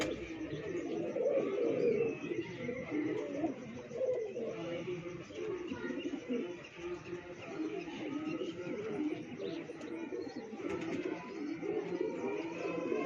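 Pigeons coo softly and repeatedly from a nearby pair kept by a pigeon fancier, with steady low murmuring calls and faint chirps over continuous background noise.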